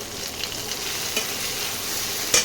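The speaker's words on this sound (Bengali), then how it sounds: "মিশিয়ে নিই ভালো করে পেঁয়াজের সঙ্গে।" Mutton being stirred and fried with onions in a pan for Bengali mutton kosha: a steady sizzle fills the clip, with light scraping from the stirring and a couple of sharp knocks from the spoon.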